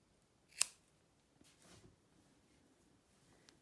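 A single crisp snip of scissors cutting through a weaving loop, fairly close, followed by faint handling rustle and a soft later tick in a quiet room.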